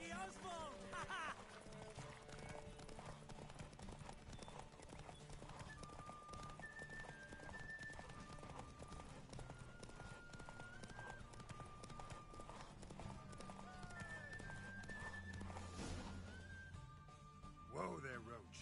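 Horse hooves clip-clop in a fast gallop with an occasional neigh during a race in The Witcher 3, set under a music score with characters speaking over it.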